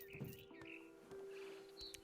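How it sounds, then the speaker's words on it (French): In the video game What Remains of Edith Finch, a barn swallow gives short, faint chirps and tweets over a quiet ambient game hum with a steady tone. "Then I heard chirping outside my window. It was a barn swallow going back to her nest."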